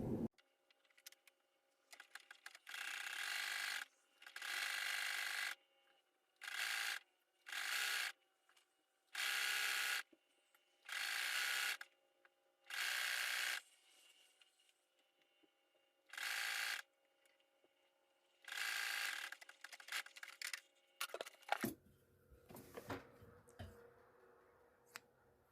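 A home sewing machine stitching a bodice seam runs in short repeated bursts of rapid mechanical whirring separated by quiet pauses, close and clear, followed by softer handling and rustling of fabric.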